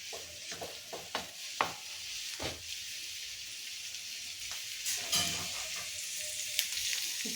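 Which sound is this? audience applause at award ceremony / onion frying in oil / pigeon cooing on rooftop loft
onion frying in oil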